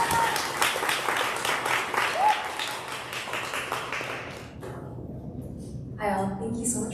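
Audience applause at a San Francisco Public Library poetry reading on Japantown, a dense crowd of claps for several seconds that thins and fades before a voice begins speaking.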